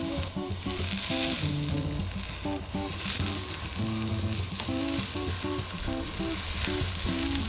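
Sliced brisket sizzles on a flat griddle alongside onions for a cheesesteak sandwich, a loud continuous frying hiss with rhythmic scraping and clattering throughout.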